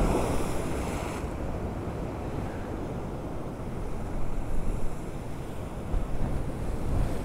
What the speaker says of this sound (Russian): Вот сейчас будет красивый удар такой волны.